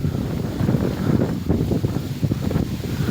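Strong, gusty wind buffets the microphone in a continuous low roar, rising and falling in uneven surges with no talking.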